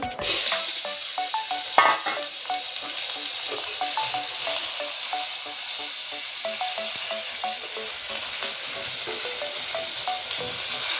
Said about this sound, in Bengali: মাছের মাথাটা এবার লাল করে ভেজে নেব দিয়ে দিচ্ছি তেলে